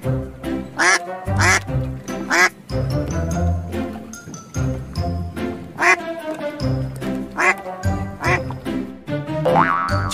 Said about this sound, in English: Q for quack.